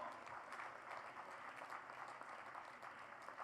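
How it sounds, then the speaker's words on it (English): An audience at a science and spirituality summit applauds, a faint, distant, steady wash of many hands clapping that continues evenly with no voices. "A big round of applause for the father of Param supercomputer."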